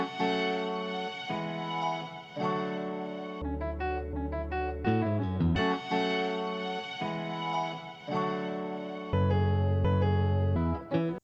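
Sampled melodic chops in a 90s-inspired hip-hop beat play back for a verse, shifting chord blocks with deep bass hits entering in places, steady and uninterrupted.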